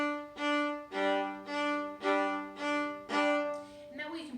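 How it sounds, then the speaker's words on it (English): A viola plays a double stop on open strings in pulsing eighth-note chunks, six or seven even, separate swells of a rich harmonic tone, close and clear, with no talk. "I would chunk, and by chunk what I mean is pulsing the 8th note pretty much"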